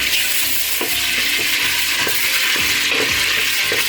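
Fish goes into hot oil for a Nigerian stew, giving a steady, loud broadband sizzle throughout, with a few soft knocks and stirring clatters on top and no talking.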